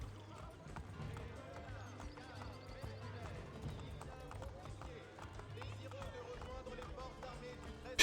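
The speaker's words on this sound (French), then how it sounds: "Les chevaux, ils vont vite." Horses gallop in a video game with quick, steady hoofbeats throughout, alongside faint whinnies and game sounds, kept at moderate loudness under other sounds.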